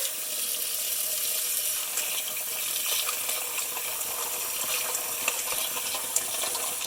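Water streams steadily into a bowl of ice for an ice bath meant to cool boiled eggs, a continuous close hiss and splash lasting several seconds with no talking.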